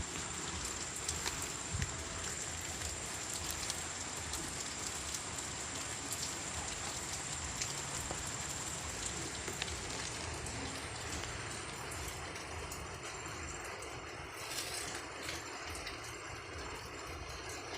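Light rain drizzle falling outdoors by a house terrace, a steady, even hiss of fine drops continuing throughout at moderate level with no talking.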